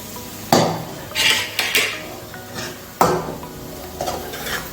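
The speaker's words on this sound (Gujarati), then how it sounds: "હવે આને આપણે ડીશમાં કાઢી લઈશું।" Dishes and cutlery clinking close by as taco filling is scooped into a serving dish, with a few sharp metallic knocks and softer scraping sounds between them, no talking.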